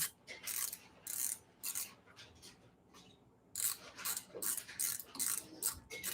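Ratchet clicking as bolts are tightened during assembly of a RadRunner 2 e-bike, in close, crisp bursts of rapid pawl clicks separated by short pauses.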